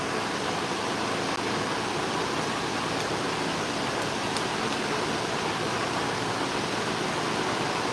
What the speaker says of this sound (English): Sorry about the fan noise, but it's brutally hot this morning.